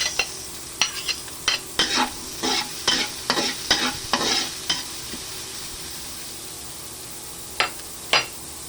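Garlic and onion sautéing in a hot pan for no-bake macaroni, a series of close, sharp scraping stirs with a faint sizzle beneath, fading to quiet before two final strokes.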